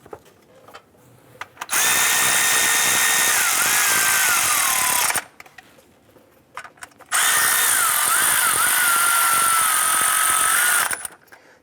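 A power tool snugs down two 10mm bracket bolts on a 2009-2015 Honda Pilot during VVT solenoid work, two loud, sustained whirring runs of a few seconds each, separated by a quiet gap with light handling noise.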